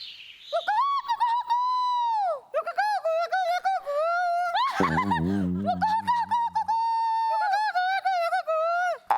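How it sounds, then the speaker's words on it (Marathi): Loud, close bird calls: long whistled coos and warbling notes that rise and fall, with a brief burst of rough, lower chatter partway through. "हा कोणत्या तरी पक्ष्याचा आवाज आहे"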